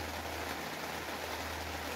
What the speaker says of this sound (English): I swear the rain's getting louder.